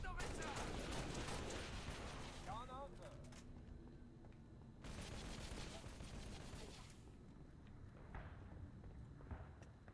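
Gunfire in the video game Halo Reach, bursts of shots and rapid fire crackling over dense game action, with a player talking excitedly through much of it.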